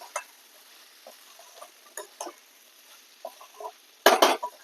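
Rice with vegetables and masala is stirred in a kadhai for veg pulao. Sparse light clinks and scrapes of a spoon against the pan are followed by a louder burst of scraping near the end.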